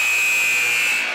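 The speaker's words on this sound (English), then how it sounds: "That's the buzzer. That's the end of the first period." A loud, steady electronic horn blares through a boys high school basketball gym, Snowflake versus Alchesay, marking the end of the first period. It holds one continuous, harsh tone for its full length with no talk over it.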